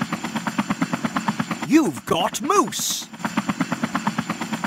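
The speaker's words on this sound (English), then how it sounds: "Use the helicopter to lift everyone to safety." Chopping helicopter rotor beats from a Fireman Sam rescue video game run as a fast, loud, even pulse, interrupted midway by cartoonish swooping effects and a short voice line, then resume.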